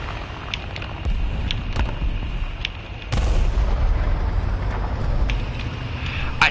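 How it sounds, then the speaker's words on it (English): Bombs burst in the War Thunder video game, a broad deep rumble that swells sharply partway through and stays loud, with scattered sharp cracks over the top. "Guys, we're getting bombed."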